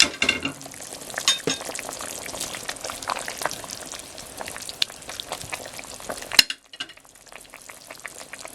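Mushrooms and corn go into a simmering Japanese-style cream stew, giving a bright sizzling, bubbling hiss with scraping stir strokes and a clatter before the sound suddenly thins out near the end.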